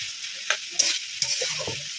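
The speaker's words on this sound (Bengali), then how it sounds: "এগুলো একটু ভাজা ভাজা করে করছে" Chopped vegetables with green chillies stir-fried on a village clay stove, sizzling with a few sharp spatula scrapes and stirs, close and fairly quiet, no talking.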